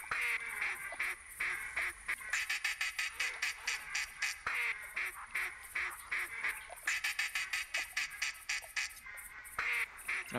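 A duck call lure used while hunting ducks in Rougarou Bayou in theHunter 2017 quacks in a rapid, steady run of loud, raspy calls that repeat for about ten seconds with only brief pauses.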